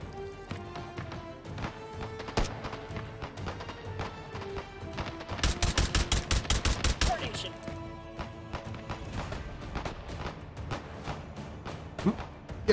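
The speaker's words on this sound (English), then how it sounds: "What's that got firing at me?" Gunfire in the VR shooter Hot Dogs, Horseshoes & Hand Grenades, scattered shots and bursts with a sharp rapid volley near the middle, some close and loud, others more distant, with faint movement sounds between.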